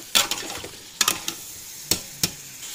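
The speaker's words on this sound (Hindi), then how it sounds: "और इसको और भुनाई करेंगे थोड़ा सा, ताकि टमाटर अच्छी तरह मिक्स हो जाए।" Tomatoes and green chillies frying in a pan, a soft sizzle punctuated by several sharp scraping strokes of a spoon as they are stirred, close and quiet with no talk.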